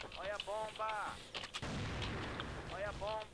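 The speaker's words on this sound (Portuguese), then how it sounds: "Olha a granada" A grenade explodes in the shooter game Crossfire, a loud booming blast with a rumbling tail amid battle noise, while a voice speaks briefly before and after.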